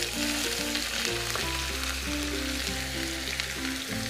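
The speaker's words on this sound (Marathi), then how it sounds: "इथं मी कांदा घालून घेते." Onion frying in a pan with black pepper, cloves, ginger, garlic and curry leaves gives a dense, steady sizzle, close and continuous throughout, with faint stirring underneath.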